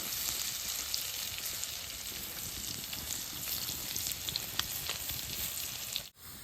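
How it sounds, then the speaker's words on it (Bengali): Garlic crisping in hot oil while cooking senchi greens, a steady dense sizzle and crackle throughout, close and fairly soft, cutting off abruptly near the end. "এই যে রসুনটা কি সুন্দর পুষছে"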